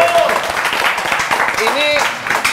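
A studio audience on an Indonesian talk show claps in a brisk burst while a presenter's voice and other sounds carry over the top; the clapping is close and fairly loud.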